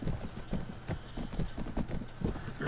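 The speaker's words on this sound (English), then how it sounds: "What is this horse?" Horse hooves trot in the Mount and Blade Warband video game, a steady, brisk clip-clop that sounds close and keeps up a regular rhythm over faint background noise.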